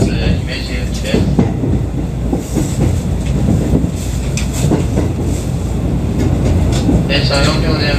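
A four-car electric local train bound for Himeji runs steadily on rails with rhythmic clickety-clack wheel beats and constant rumble, while a recorded announcement voice speaks over the noise.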